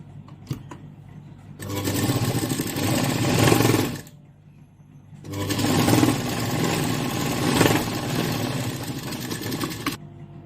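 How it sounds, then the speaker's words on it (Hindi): A sewing machine stitches lining onto a sleeve for a mirror-work blouse, running in two close, steady bursts of rapid mechanical whirring and clatter separated by a short pause. "सबसे पहले हम यहाँ पर एक सिलाई लगाएंगे।"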